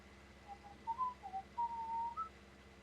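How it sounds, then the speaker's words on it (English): A person whistles a short, wandering tune of a few sliding notes while playing a farming video game, soft and fairly close over a quiet, steady background hum, with no talking. "I don't know how people feel about me randomly whistling while I play this game"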